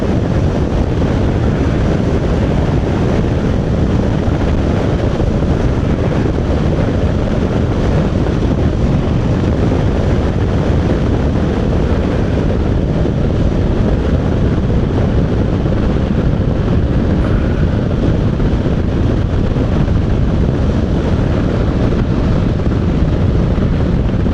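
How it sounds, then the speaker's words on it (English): Steady, loud wind roar buffets the microphone throughout while riding a Honda NC750X DCT motorcycle on the open road, a continuous broadband rush with no letup. "Now, where's that wind coming from?"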